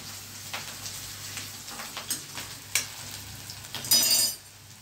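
Onions tempering in hot oil for khichdi, a soft close sizzle punctuated by intermittent stirring clicks and a brief louder burst of spattering near the end.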